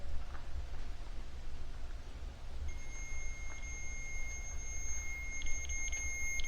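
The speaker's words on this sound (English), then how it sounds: "my map reader is beeping, but I'm not getting any readings right now" A handheld meter device used during a paranormal investigation at an opera house gives steady high-pitched electronic tones with a few short beeps toward the end, over a low hum in a quiet room.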